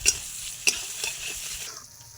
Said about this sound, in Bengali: এইবার আমি ভালো করে একসাথে সবগুলো ভাজা ভাজা করে নেব